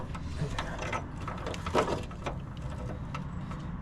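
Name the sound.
flaring a fuel line end with an old flaring tool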